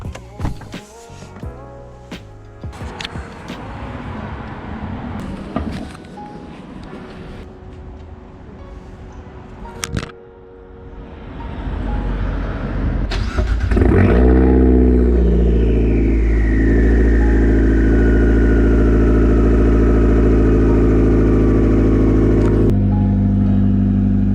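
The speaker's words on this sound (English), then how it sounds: "You guys know I gotta give you guys this cold start, so let's check it out." A car engine cranks and roars to life, briefly revving loud before settling into a steady, rumbling idle up close; clicks and handling noises come first.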